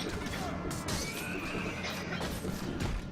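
Horses neigh and whinny loudly and close in a Mount & Blade Warband medieval mod battle during a tourney, with hoof clatter and mechanical clanks mixed in under a steady busy din.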